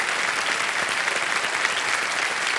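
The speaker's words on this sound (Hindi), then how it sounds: "एक बार जोरदार तालियां बज जाएं इनके लिए।" A TV studio audience on a quiz show applauds a contestant with loud, sustained, even clapping from many hands, unbroken for the whole stretch.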